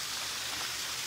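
Rain falling in a steady, even hiss, with no voices over it.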